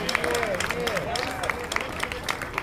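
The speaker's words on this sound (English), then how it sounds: "Can we put our hands together for Artists in Partnership?" Audience clapping at a community centennial celebration, a steady wash of applause with scattered sharp claps and crowd murmur, heard close and fairly loud throughout.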